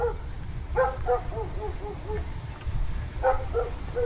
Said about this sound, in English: He's got them loud ass dogs.